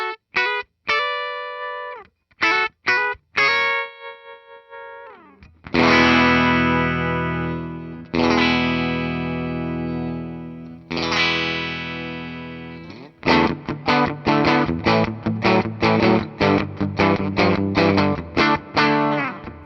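Electric guitar, a Gibson Les Paul Junior, played through distortion: loud ringing chords and single notes, several short stabs, then long sustained strummed chords, then fast rhythmic picking, with no talk.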